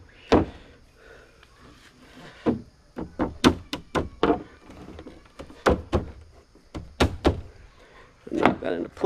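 Boat interior parts for a 13- or 15-foot Super Sport kit are knocked and thumped into place in a series of sharp close knocks and thunks, with a person talking between the hits.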